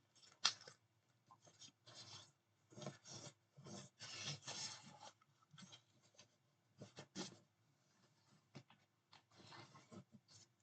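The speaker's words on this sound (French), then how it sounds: "Je marque bien tous mes plis." Cardboard being creased along its fold lines while making a small cupboard, a series of close, dry rasping scrapes in bursts of varying length with short pauses between, quiet and with no talk.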